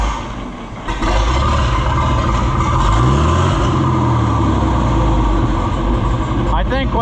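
A John Deere 4020 tractor engine cranks and catches, then settles into a loud, steady diesel rumble close by, with a brief rising whine and a voice heard over the running engine.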